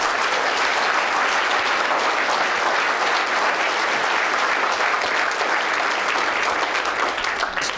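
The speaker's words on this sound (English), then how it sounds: "Please give these 2 a round of applause" An audience at a city's State of the City address gives a round of applause, a loud, even wash of many hands clapping that holds steady for the whole stretch and fades slightly at the end.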